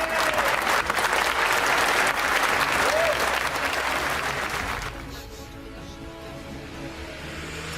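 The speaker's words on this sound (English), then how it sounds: "MPs unite in applause as the Ukrainian ambassador attends PMQs in the Commons." MPs in the House of Commons give a loud, sustained ovation for the Ukrainian ambassador: dense clapping fills the chamber, then drops sharply and fades to a quieter murmur near the end.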